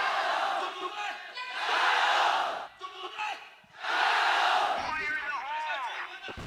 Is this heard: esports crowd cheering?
yes